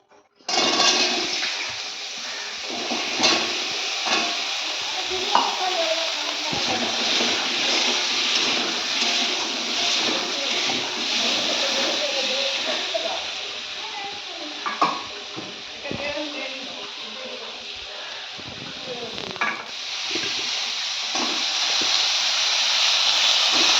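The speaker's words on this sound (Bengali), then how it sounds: "এখন এখানে যা তেল আছে আমি ফুলকপিটা আলুটা একটু ভেজে নেবো" Cauliflower and potatoes fry in hot oil in a home kitchen pan, a loud continuous sizzle with occasional stirring scrapes and clatter, steady for the whole stretch.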